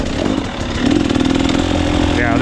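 An enduro dirt bike engine revs as the rider crosses a log on rough hard-enduro terrain, a loud buzzing drone that rises in pitch, with talking over it.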